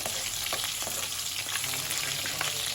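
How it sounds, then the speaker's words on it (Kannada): Green chilies and bird's eye chilies fry in a pan for a raw mango gojju, making a dense, continuous sizzle and crackle close up with faint stirring scrapes throughout. "ಸ್ವಲ್ಪ ಹಸಿಮೆಣಸು ಮತ್ತು ಗಾಂಧಾರಿ ಮೆಣಸು ಎರಡನ್ನೂ ತೊಗೊಂಡಿದ್ದೇನೆ. ಇದನ್ನು ಸೇರಿಸ್ಕೊಳ್ತಾ ಇದ್ದೇನೆ."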